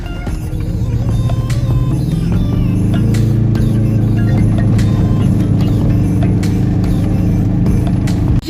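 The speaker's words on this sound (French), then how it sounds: "j'aime bien le son de cette voiture. Parce qu'on a un petit bruit qui fait penser au karting" Aixam GTI microcar engine running with a steady, buzzy karting-like drone that rises in pitch after a couple of seconds, loud and close throughout.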